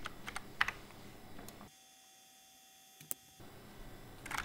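A computer keyboard clicks as the root password goes into NetBSD on a DEC VAXstation 4000 VLC. Quiet, irregular keystrokes come in short bursts, then a brief near-silent gap, and the keystrokes pick up again.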